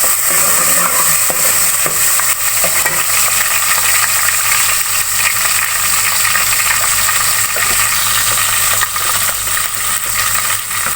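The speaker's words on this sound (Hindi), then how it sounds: "इसको थोड़ी देर भून लेंगे" Steady, loud sizzling of paste frying in hot oil, a continuous crackling hiss with faint clinks of stirring.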